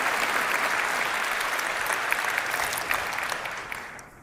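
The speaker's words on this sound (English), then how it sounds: "But everyone else is clapping." An audience at the CitizenCon 2023 gaming convention applauds in a steady, dense wash of many hands clapping that holds for several seconds, then begins to thin and fade at the end, with no voices over it.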